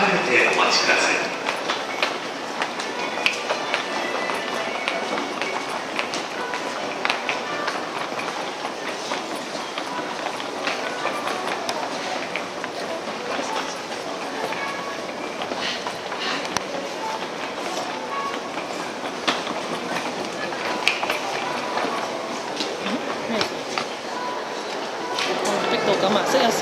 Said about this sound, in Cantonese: 2番乗り場に名の浜行き電車が到着します。